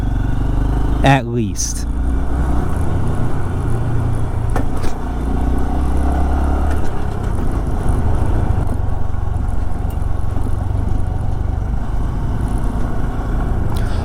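A Honda CT125 motorcycle on a regular riding route, its engine humming steadily and close throughout, with wind rumble and someone talking briefly over it.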